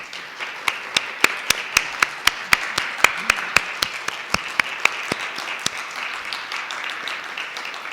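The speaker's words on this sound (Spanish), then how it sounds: "un aplauso para ellos." An audience at a Spanish-language book presentation applauds, with a steady patter of many hands and a few sharp, close claps standing out before the clapping thins toward the end.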